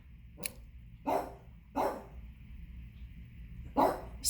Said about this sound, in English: she wants to bark like crazy.